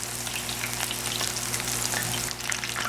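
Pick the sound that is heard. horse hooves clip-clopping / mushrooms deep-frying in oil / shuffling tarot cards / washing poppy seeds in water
mushrooms deep-frying in oil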